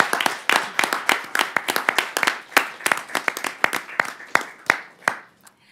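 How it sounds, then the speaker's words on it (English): A crowd at a high school debate semifinal applauds the student debaters, with dense, steady clapping that stays loud and close before thinning out toward the end. "We have a big round of applause to our student debaters."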